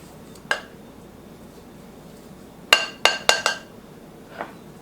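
A spoon clinks against a bowl while sugar is mixed into cheesecake batter, a lone tap and then a quick cluster of four sharp knocks, close and clear in a quiet kitchen.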